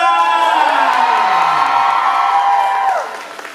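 A concert audience applauds and cheers for a Thai performer, loud and close throughout, with whoops and shouts rising over the crowd noise before it fades near the end.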